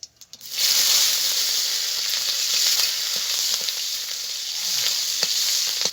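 Cumin seeds and slit green chilies hit hot white oil and burst into a loud, sustained sizzle after a brief clatter, the bright hiss wavering slightly as it continues.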